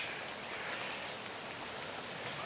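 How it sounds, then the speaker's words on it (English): Steady rain on a showery day, a dense even hiss of drops falling on surfaces outdoors, constant and fairly soft with no other sounds. "you can see it's kind of a rainy day today, but working between the showers"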